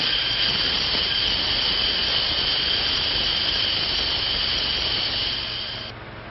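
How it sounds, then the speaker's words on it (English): Steam released with a loud, steady hiss that runs unbroken for about six seconds in a 1937 musical western setting, then drops off slightly near the end; no one speaks. "Turn on the steam."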